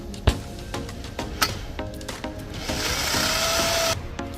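A power drill whirs in short bursts with clicks and knocks between, then runs steadily for about a second and stops, drilling a hole to mount a floorboard on a Suzuki Boulevard motorcycle.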